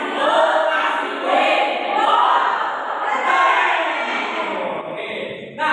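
Class of fifth-grade children in a classroom chanting loudly together in sustained unison bursts, a crowded group voice filling the room with little pause.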